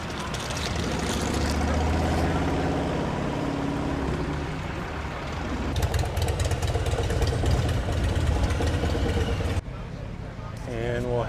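Several motorcycles idle and rumble at a busy biker gathering in Rabbit Hash, Kentucky, a steady low engine drone with louder revs midway, mixed with crowd chatter and voices talking nearby.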